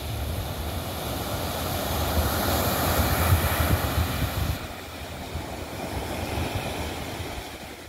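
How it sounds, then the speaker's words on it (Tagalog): Strong Pacific Ocean surf at Sumadag Beach in Maconacon, Isabela, a loud, continuous roar of breaking waves mixed with heavy wind buffeting the microphone, easing slightly toward the end. "Malakas ang alon."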